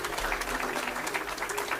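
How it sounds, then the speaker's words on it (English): Applause from the audience at a community radio awards ceremony, a moderately loud and uneven patter of many hands clapping, with some brief sharper claps standing out from the crowd. "So give yourselves a round of applause for keeping radio alive in the community."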